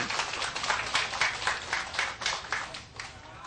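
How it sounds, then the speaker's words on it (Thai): A rally crowd applauds toward the stage at an outdoor political gathering at Sanam Luang, a steady, dense wash of clapping that holds for several seconds before thinning out. "ขอเสียงปรบมือให้กับสหายชัยด้วยนะคะ"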